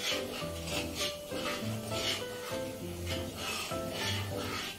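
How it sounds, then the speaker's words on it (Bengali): Chhena payesh stirred in a pot after a pinch of salt goes in, giving soft rhythmic rubbing and scraping strokes at close range, with no voices. "অল্প নুনটা দিচ্ছি, দিয়ে আবার নাড়িয়ে নিলাম।"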